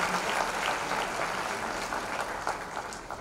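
Sustained applause from an audience at an anniversary stage event, a dense continuous patter of many hands filling the whole stretch at steady moderate loudness with no talk over it.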